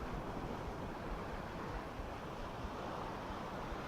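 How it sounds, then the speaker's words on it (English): Steady, broadband wind roaring across a microphone, a continuous rushing blast with low buffeting rumble throughout, no voices. "It's windy today."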